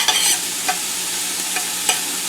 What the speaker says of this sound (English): So I'm just going to stir this around for, I'd say, probably 4 or 5 minutes.